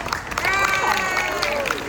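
An audience at a live show breaks into applause, with a steady wash of clapping mixed with cheering and crowd voices throughout, fairly close and continuous.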